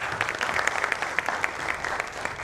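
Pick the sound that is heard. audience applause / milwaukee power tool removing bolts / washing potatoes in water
audience applause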